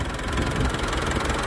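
The diesel engine of a 2019 Mitsubishi Triton single-cab 4x4 pickup idles steadily nearby, a low, even rumble with a faint rhythmic knock and no voices.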